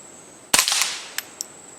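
A single sharp rifle shot through a Griffin Armament Paladin 5 suppressor, a crisp crack with a short tail, followed by two faint metallic clicks; outdoors, fairly close.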